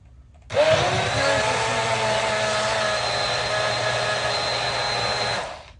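A blender runs with a loud, steady whirring motor that starts abruptly, holds at an even pitch for about five seconds, then cuts off.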